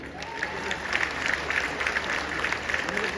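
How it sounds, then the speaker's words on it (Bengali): An audience claps steadily and fairly evenly for a few seconds, a dense patter of many hands heard from within the crowd. "হাততালি দিন।"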